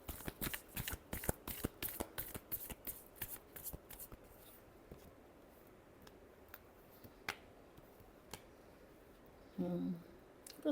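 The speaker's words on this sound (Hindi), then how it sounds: "Last shuffle." Tarot cards shuffle rapidly and crisply up close in a dense burst of riffling flicks, then thin out into a few scattered card taps and slides before a brief rustle near the end, with no speech.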